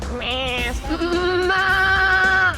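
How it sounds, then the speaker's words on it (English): Pashmina goats in Ladakh bleating close by, a couple of long wavering bleats in quick succession, loud and clear with faint background noise. "Wow, look, your favorite goats."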